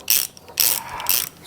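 Socket ratchet clicking through three quick, close bursts of strokes during a Vespa GTS scooter rebuild, loud and alone with no talking.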